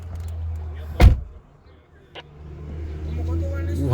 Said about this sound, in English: I just close the door and see.